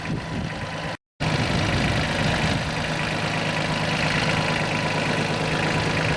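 A tractor with an MTZ-50L engine drones loudly and steadily while towing, a rough continuous rumble with a brief cut near the start.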